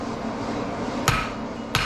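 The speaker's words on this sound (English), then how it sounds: "And then we draw it back towards us as we hammer in the same place." Two sharp, ringing hammer strikes on hot steel while a fire poker is forged at a blacksmith's anvil, heard over a steady roar of background noise.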